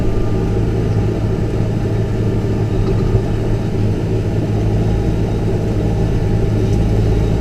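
A Massey Ferguson tractor engine runs steadily nearby, a loud, constant low rumble with no change in pace throughout.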